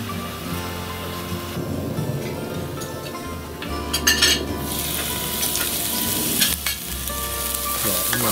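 Morel mushrooms fry in a pan on a gas grill, producing a continuous moderate sizzle with occasional stirring clatter and a brief louder crackle near the middle.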